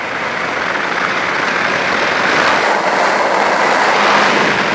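A Yamaha Virago motorcycle engine revs up to highway speed, a steady loud roar with wind rush that swells slightly toward the end.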